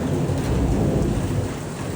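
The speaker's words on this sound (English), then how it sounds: "This is a nice storm." Thunderstorm in Lubbock with rain pouring steadily and low thunder rumbling throughout, a dense continuous roar close by with no voices.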